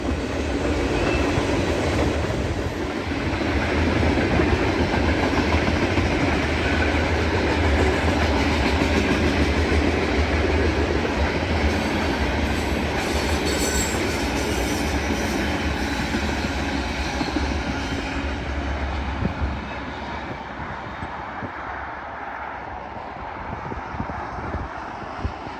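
A BN/UP manifest freight train rumbles past close by in the Columbia River Gorge, steady and loud, with a heavy low roar and rattling wheels that fade slightly toward the end.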